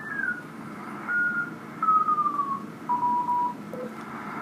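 Amateur radio signal tuned on the 18 MHz band, a faint wavering tone that slides and steps between pitches in short bursts over a steady hiss of band noise.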